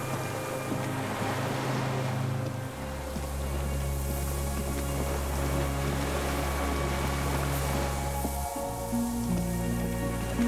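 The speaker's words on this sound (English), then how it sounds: "The distant sound of cargo ships." Distant cargo ships and echoing signal horns over water in the video game Disco Elysium: deep, sustained low horn tones that shift pitch, beneath a steady wash of sea ambience, with no voices.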